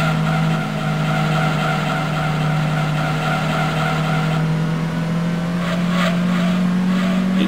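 A race car engine in Gran Turismo 2, a rear-wheel-drive car with soft rear shocks, holding a loud, steady, droning note that rises slightly in pitch, with brief tire squeal near the end.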